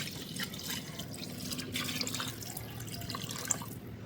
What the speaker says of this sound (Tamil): 9 கப்பு தண்ணியை ஊற்றுறோம்